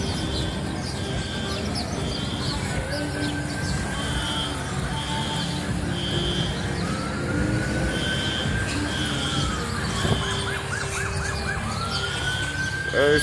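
Police sirens wail from the distance during a stabbing investigation, with repeated rising and falling tones alongside steady street background noise.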